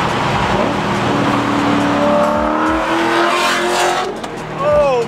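An LS1 V8-swapped BMW E30 roars loudly as it accelerates hard, with the engine pitch climbing through revs close by while people shout excitedly over it.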